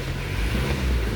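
A Mitsubishi Montero engine idles high with a steady, close rumbling drone, held at elevated revs throughout a short stretch with no talking.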